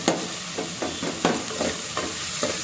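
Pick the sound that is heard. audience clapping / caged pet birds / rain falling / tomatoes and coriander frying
tomatoes and coriander frying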